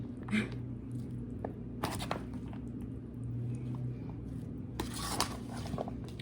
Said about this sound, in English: Make sure you guys mix it well to make sure that it is completely mixed